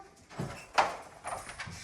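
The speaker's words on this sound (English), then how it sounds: "and then you close the door, just like that" A dog kennel door swings shut with a close metallic clack and rattle, set between a few softer bumps and shuffles.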